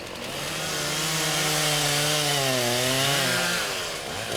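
Several chainsaws run together at loud, sustained revving as forestry apprentices cut wood, the engine pitch rising and shifting steadily with no talk over it.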